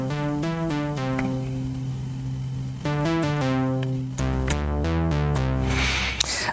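Monark software synthesizer running a Minimoog-based preset, playing short repeated bass-heavy note sequences with bright buzzy harmonics, growing louder and denser toward the end, with no voices.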